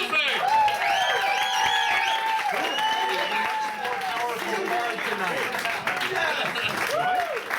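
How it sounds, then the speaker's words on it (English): A live show audience applauds and cheers a newly crowned Omniana champion, steady dense clapping filling the whole stretch, with whoops and a voice over the crowd. "please give a big round of applause to your new Omniana champion"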